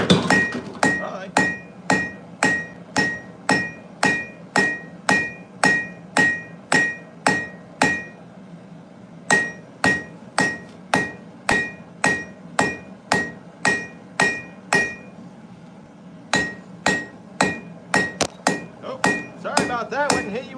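A hammer strikes hot steel on an anvil while forging a steak flipper, a long series of sharp, ringing metallic blows in a steady rhythm, close and loud, with two short pauses between runs.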